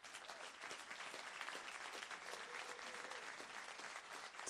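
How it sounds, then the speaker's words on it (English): A large audience applauds staff members at a state assemblymember's community address, giving dense, steady clapping that fills the room for several seconds without a break. "Please, a round of applause."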